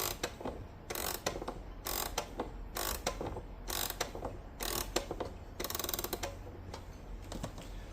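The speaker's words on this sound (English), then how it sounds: "The left-hand side is the strike, and that winds clockwise." An E. Ingraham parlor clock being wound on its strike side, with rapid, crisp ratchet clicks in repeated bursts, each turn of the key producing a quick run of close, sharp ticks.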